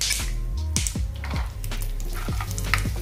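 Almonds, melon seeds and pumpkin seeds lightly roasting in a pan, with a steady soft sizzle and repeated scraping stirs at a close, even level, no voices.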